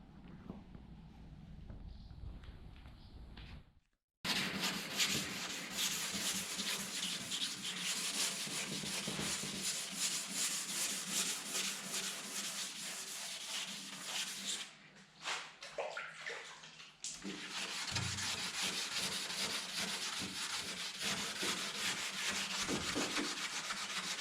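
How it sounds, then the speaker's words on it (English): Steady wet sanding by hand on Volkswagen Transporter van doors, a continuous rough scrubbing hiss with brief pauses, close and loud, no voices. "next operation is wet sanding all those doors and all those pieces as well"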